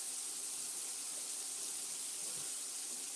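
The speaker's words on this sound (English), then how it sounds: "So I'm gonna turn it down and leave it for the sear." Lemon pepper catfish pieces sear in a small skillet over lowered heat, producing a soft, even, continuous hiss with no voices.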